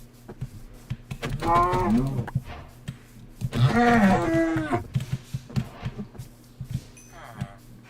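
Cows lowing in the Minecraft video game, two drawn-out moos rising and falling in the middle, with quieter clicks and game sounds around them.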